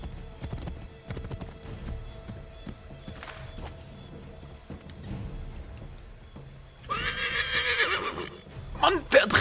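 A horse in the Assassin's Creed 3 video game clip-clops along in a steady hoof rhythm, then lets out a loud, close whinny, with other game sounds and some voices underneath.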